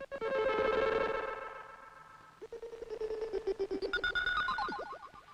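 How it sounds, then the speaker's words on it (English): A Morse code signal from Alpha Centauri is picked up by a radio telescope in a 1962 science-fiction series, heard as loud, buzzy electronic tones that warble, drop in pitch, then break into rapid pulsing beeps. "The radio telescope is picking up signals from Alpha Centauri, and it's in the Morse code."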